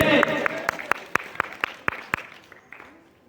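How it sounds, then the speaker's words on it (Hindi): Sharp, evenly spaced hand claps ring out about a dozen times in a steady rhythm at a Republic Day program, then fade into quiet. "जोरदार ताली से स्वागत करें"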